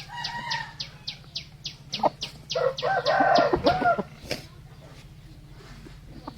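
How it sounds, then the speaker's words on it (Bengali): Large hill-breed desi chickens cluck and a rooster crows nearby, with a steady low hum underneath and repeated short bird calls throughout. "এটা পাহাড়ি বড় জাতের মুরগি।"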